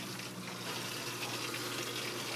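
Water pours steadily down into a DIY aquarium sump refugium, a constant broad splashing rush that stays even throughout with no voices.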